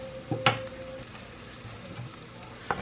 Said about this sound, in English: I'm going to take a tablespoon of butter, melt that, just kind of off to the side in the same pan